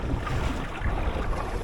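A Drascombe Lugger sailboat under way in the wind, with steady broadband wind rush and water noise close to the microphone, continuous and fairly loud with no talk.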